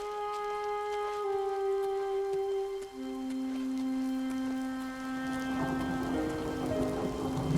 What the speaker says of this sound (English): It rains constantly in this region